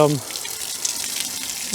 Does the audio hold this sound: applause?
no